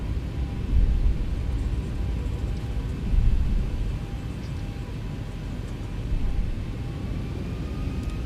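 Boeing 737 engines spooling to takeoff thrust on the runway in the X-Plane flight simulator with the Zibo mod, a heavy, continuous low rumble that swells in slow waves and stays loud.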